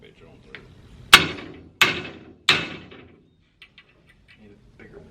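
Hammer blows on a metal punch while bolts are being knocked out, three loud sharp metallic strikes about a second apart, followed by faint ticking and shuffling.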